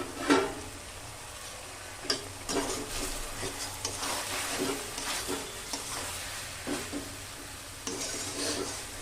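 Oil-free chicken cooking in a covered pot and stirred: steady soft sizzling with repeated scraping strokes of a spoon against the pot, close and moderately loud, with no talking.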